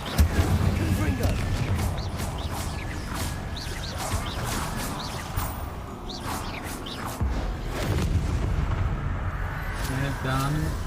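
Fiery explosion spell effects in a PC fantasy video game go off repeatedly over dense, loud game audio, with booming blasts and whooshes layered under continuous talk from a player calling out spells.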